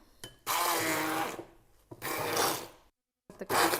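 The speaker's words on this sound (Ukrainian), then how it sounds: "Вбиваємо блендером." A hand blender whirs loudly in bursts blending strawberries: a long run, a shorter one, a brief silence, then it starts again.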